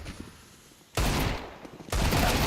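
Rifle gunfire in a Counter-Strike 2 esports match: two loud, dense bursts of rapid shots, the first starting about a second in and the second near the end, over a low steady background.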